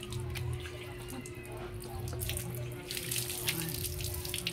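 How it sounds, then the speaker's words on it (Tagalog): Water poured over an elderly man's feet during a bath, a continuous splashing tap-like stream that grows louder and brighter toward the end, with low voices underneath. "Buhusan mo pa yung paa niya ng tubig"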